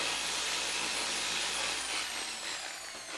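A Rupes polisher spins a foam pad with a loud, steady high whine, close up, easing slightly toward the end.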